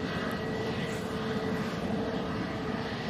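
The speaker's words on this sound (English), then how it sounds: "Ryanair's arriving, if you want that." A Ryanair airliner arriving at Manchester Airport, a continuous broad engine rumble and roar at moderate distance, steady throughout with no voices.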